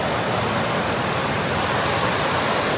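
A waterfall pours into a deep pool in an old town, giving a steady, dense rush of broadband water noise that stays close and even throughout, with no voices.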